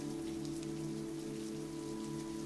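Steady rain patters on a surface outside a ramen shop at night, a soft, even hiss with faint droplet ticks and no voices.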